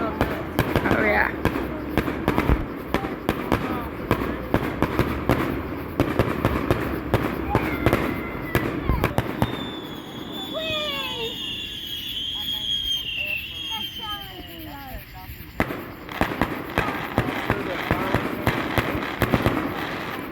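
Fourth of July fireworks going off at a distance, with scattered pops and crackles. The middle section brings whistling, rising and falling streaks, and people talk throughout.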